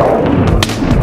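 A single short, heavy thud with a sharp burst, like a game explosion, close and loud.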